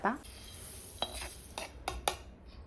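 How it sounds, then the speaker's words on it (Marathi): Coriander seeds dry roasting in a pan with no oil, giving a few light scraping stirs and rattling clicks at close range, with no talk. "आता धने आपले भाजून झालेले आहेत, विदाऊट तेलाचे धने भाजलेले आहेत, फक्त भाजून घेतले।"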